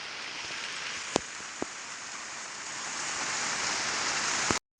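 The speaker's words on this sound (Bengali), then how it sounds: "এগারোটা বাজে কিরকম ঝমঝম করে বৃষ্টি পড়ছে" Heavy rain pouring down, a dense, loud, even roar of drops hitting surfaces, with a couple of sharp nearby taps before it cuts off abruptly at the end.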